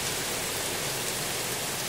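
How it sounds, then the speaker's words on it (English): Heavy rain pours steadily through a rainstorm in West Yorkshire, a dense, continuous hiss close by with no break and no voices for the brief stretch. "Can you even see the rain?"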